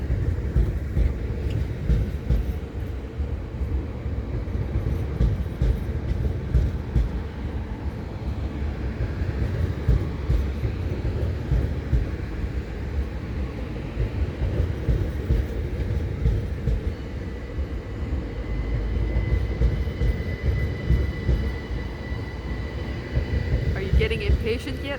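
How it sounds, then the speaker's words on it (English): Train passing by during a quiet meditation talk, a long loud rumble of rolling railcars with rhythmic clatter and squealing wheel tones, sustained for the whole stretch, with no talking. "Train is coming."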